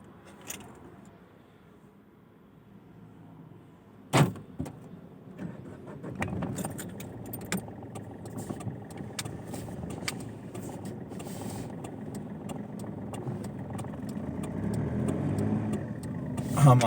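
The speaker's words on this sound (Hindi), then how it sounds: "गाड़ी स्टार्ट करते हैं।" Keys jangle, then a car engine cranks and starts, followed by rattles and a steadily building engine hum as the car pulls away toward a highway, heard close from inside with no talking.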